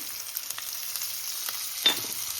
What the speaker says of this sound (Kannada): ಈರುಳ್ಳಿ ಒಂಚೂರು ಕೆಂಪು ಫ್ರೈ ಆಗಲಿ.